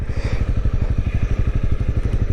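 A Honda CB250R motorcycle ridden around a city, its engine running with a steady, rapid pulsing thump close up, loud and alone with no talking.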